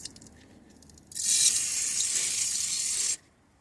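A WD-40 aerosol can sprays onto a Vauxhall/Opel Vectra B V6 engine part during water pump work, one continuous hissing burst of about two seconds, close and loud, then stops.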